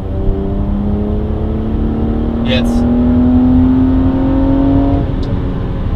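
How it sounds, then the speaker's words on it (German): A steady BMW 330i N52B30 engine drone heard inside the car, a low, rising rumbling tone from a 130i intake sound generator as revs climb in third gear, continuous and fairly loud, with a brief spoken word partway through. "Hört man das ziemlich deutlich, das Brummeln, also das, den Soundgenerator."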